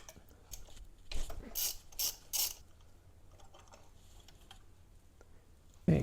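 A ratchet works a spark plug out of a 1.8 20V turbo Audi/VW engine fitted in a Nissan Micra, heard as several short, close bursts of clicking separated by quiet pauses, with no speech.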